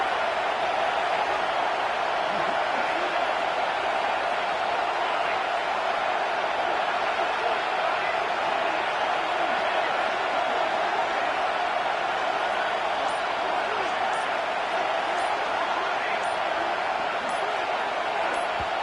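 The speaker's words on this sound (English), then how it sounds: "Neyland Stadium, alive, a cauldron of orange noise" Dense, sustained roar of a packed football crowd at Neyland Stadium, a steady wall of broadband noise holding at full loudness for the whole stretch with no pauses, heard from within the stands.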